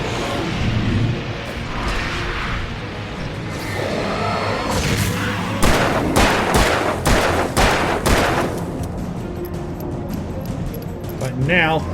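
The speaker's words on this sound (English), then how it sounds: "Flare gun." Shots boom out one after another from a flare gun in Alan Wake Remastered, loud and close, in a burst of sharp reports over steady game music and noise. A streamer talks over parts of it.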